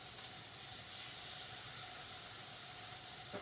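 Fish fries in hot oil in a pan for Cali-style fish tacos, giving a steady, even sizzle and hiss that carries on unbroken with no talking over it.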